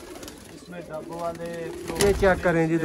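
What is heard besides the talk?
pigeons cooing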